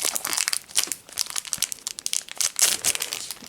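A Pokémon card booster pack wrapper crinkles and crackles close up in a continuous run of bright, rustling foil sounds, with no one speaking.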